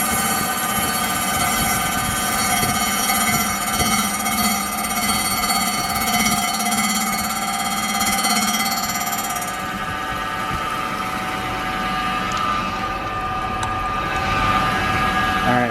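A Storm Vulcan machine grinding a crankshaft, a loud steady mechanical whine and hum with layered tones, easing slightly partway through and continuing without a break.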